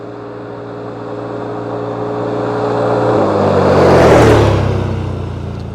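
A stock Z-Force side-by-side coming down a hill, engine drone building as it nears, peaking loud and close with a pitch drop as it passes, then fading away.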